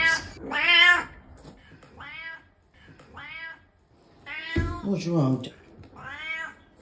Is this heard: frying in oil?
no